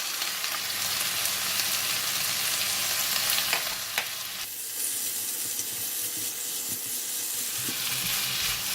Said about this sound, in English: I'm going to stir in half of the Tom Yum paste.